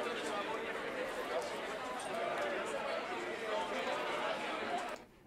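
Marketplace ambience loop for a game scene: a steady, dense murmur of crowd chatter with scattered footsteps and bustle, continuous and even throughout before cutting off abruptly near the end.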